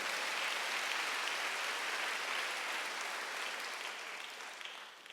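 Church congregation clapping during a Sunday worship service, a dense, steady wash of many hands applauding together that holds for several seconds and begins to thin out at the very end.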